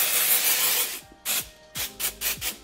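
A Flower Beauty Jet Set Invisible Powder aerosol setting spray hisses close up in one long burst, then several short quick puffs, with no talk.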